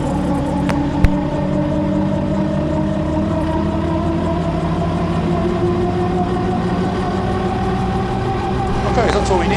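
Twin-engine light aircraft engines running steadily at a matched speed, a continuous droning hum with a rhythmic propeller beat throughout, near and loud.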